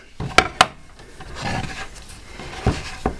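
Raw pastry edges are trimmed from a pie dish for a prawn, tuna and potato pie, giving several sharp clicks of a knife against the dish and soft scraping cuts between them, close and without talk.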